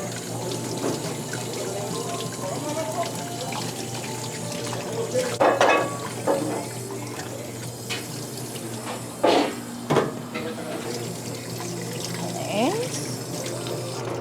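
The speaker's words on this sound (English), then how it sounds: "we're just gonna rinse off all of the pink salt once it's been curing for 3 days" Running tap water rinsing pink curing salt off pancetta pork belly after three days of curing, a steady close stream with occasional splashes and handling noises, no talk.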